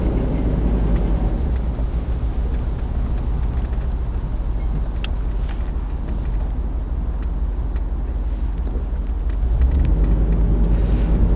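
A Rolls-Royce Corniche II cruises along a road on a dry, blustery afternoon, a steady low rumble of engine and tyre noise heard from inside the car without a break, no talk.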